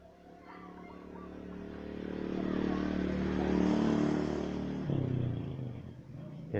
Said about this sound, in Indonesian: terganggu suara kendaraan karena depan ini, depan rumah saya ada jalan ini